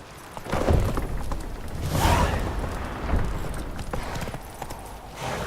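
Horse hooves clip-clopping at a gallop in The Witcher 3: Wild Hunt, a steady rhythmic pounding over a rumbling game soundscape with swells of wind and movement.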